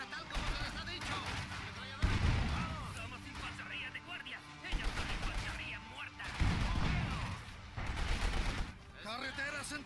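Machine gun fire in the WWII strategy game Company of Heroes 2: repeated loud bursts of automatic fire mixed with battlefield noise, running under someone speaking Spanish commentary throughout.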